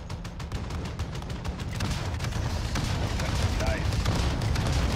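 An explosion destroys enemy armor in the Modern Warfare 2019 campaign, heard as a loud, rumbling blast with gunfire cracks over it and a continuing low roar. A voice speaks amid the noise.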